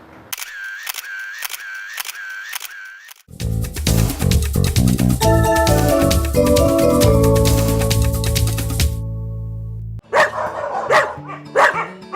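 Puppies bark and yip in short bursts at the start and again near the end, loud and close, separated by a long dense stretch of other busy sound.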